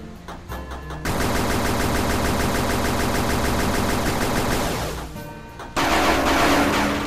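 Sustained rapid automatic gunfire in the video game Axiom Verge 2, a loud dense stream of shots running for several seconds, a brief pause, then another loud burst.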